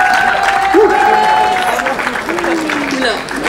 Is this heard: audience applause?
yes